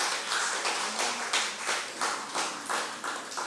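A congregation at a Friday church worship service claps together in a strong, regular rhythm, about three claps a second, loud and sustained throughout.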